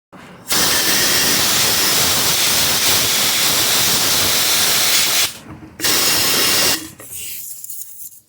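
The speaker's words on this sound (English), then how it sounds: "I'm going to blow it off with an air tool" Compressed air from an air tool blows out the fuel tank of an Echo SRM-225 trimmer in long, loud, steady hissing blasts, two of them broken by short pauses, with a softer blast at the end.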